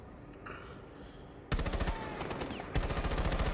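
Gunfire in the video game Rainbow Six Siege: after quiet game ambience, loud rapid automatic bursts erupt and continue, with a second burst of rapid shots near the end and no talking.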